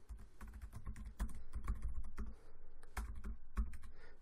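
Fingers type on a computer keyboard to enter account details, quick irregular clicks and key taps close by, with no voices.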